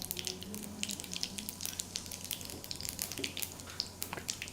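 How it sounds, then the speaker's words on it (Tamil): Mustard and cumin seeds splutter in hot oil with faint, scattered crackles and pops, steady and quiet, with no talking. "கடுகு சீரகம் நல்லா பொரிஞ்சிருச்சு"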